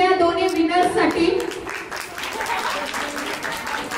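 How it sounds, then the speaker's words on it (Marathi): Applause breaks out for the two winners at a child's fourth birthday party, a steady patter of clapping from a small crowd running under a voice at the start and holding on to the end. "एकदा जोरदार टाळ्या वाजवूया दोन्ही विनर्स साठी"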